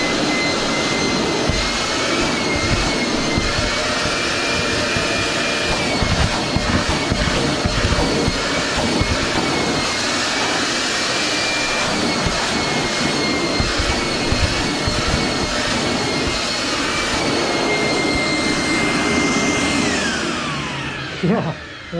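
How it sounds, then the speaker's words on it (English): A powerful vacuum cleaner runs continuously at close range, a loud roaring whine with a steady high tone that dips in pitch near the end as it winds down. "the amount of suction this thing is nuts. It's better than any shop vac I've had"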